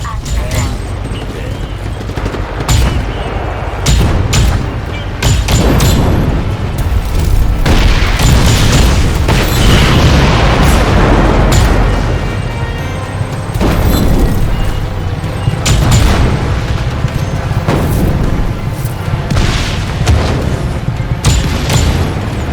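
Heavy gunfire and repeated booming explosions in the open-world action game Just Cause 3, loud and nearly continuous, with a voice talking over the chaotic blasts.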